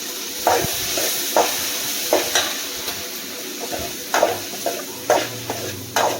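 Tomato, onion and ground coconut paste sauté in a pan with a constant close sizzle, punctuated by roughly regular scrapes of a spoon stirring about once every second.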